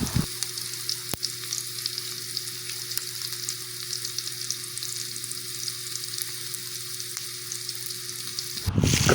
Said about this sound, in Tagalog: Atin pong uunahin ang pagsasangkot ng ating bawang.